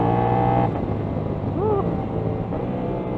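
Steady engine drone of a CFMOTO 450SR sport motorcycle on a ride, a continuous mid-loud hum with wind noise that holds level throughout, no voices.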